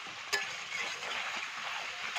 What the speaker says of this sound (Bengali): ভালো করে একটু মশলাটাকে কলার সাথে কষিয়ে নিতে হবে।